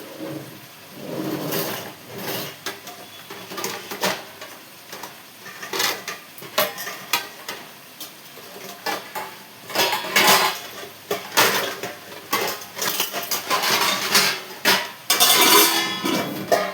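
Metal cookware clatters in a home kitchen as a lid is set on a cooking pot, several sharp clanks and scrapes in irregular bursts that grow busier and louder toward the end.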